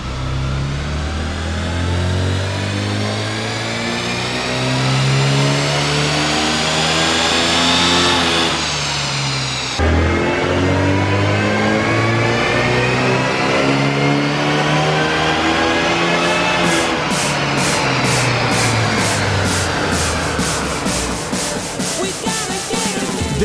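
Supercharged Mini engine on a power run, revving hard and loud in repeated sweeping climbs with a gear change midway, rising whine and high-pitched stutter toward the end.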